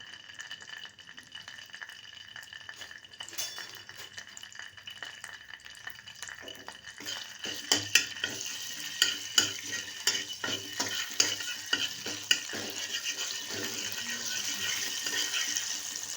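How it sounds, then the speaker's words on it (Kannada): Ginger garlic paste sizzles in a pan while a spoon stirs it, with a soft frying hiss and repeated scraping clicks that grow louder and busier partway through. "ಸೊ ಈಗ ಜಿಂಜರ್ ಗಾರ್ಲಿಕ್ ಪೇಸ್ಟ್ ಹಾಕ್ತಾ ಇದ್ದೀನಿ."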